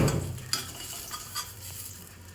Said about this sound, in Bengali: এরপরে আরেকটু পটলটাকে ভেজে নিচ্ছি